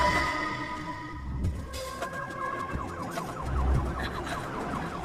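An ambulance siren wails, rising and falling continuously, with traffic rumble and a busy street bed underneath.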